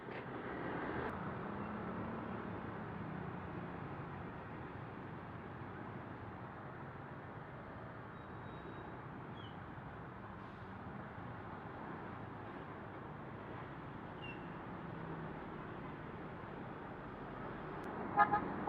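Congested road traffic makes a low, steady rumble of idling and crawling vehicles, with a short car horn toot sounding just before the end.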